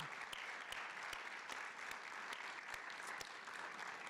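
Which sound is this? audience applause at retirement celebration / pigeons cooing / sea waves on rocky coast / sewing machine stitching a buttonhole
audience applause at retirement celebration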